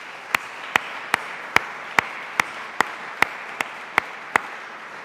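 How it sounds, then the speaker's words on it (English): Sparse, evenly spaced claps, about ten sharp hand claps at a steady rhythm over a faint room background, from an audience at a public event on making London safer. "Please give a round of applause to Sarah."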